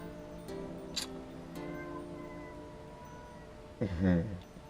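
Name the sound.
cat meowing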